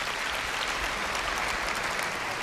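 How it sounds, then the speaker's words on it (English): An audience at the Apple WWDC keynote breaks into dense, steady applause, with many hands clapping together for a couple of seconds. "You can clap, it's good."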